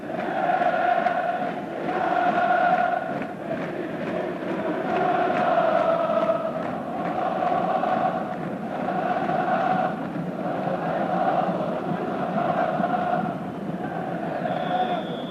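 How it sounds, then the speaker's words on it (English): A football stadium crowd at a 1993/94 Champions League match between Galatasaray and Manchester United sings together in a loud, sustained roar. The chant rises and falls in steady waves and fills the whole stretch. "also the signal for the crowd to break into song again"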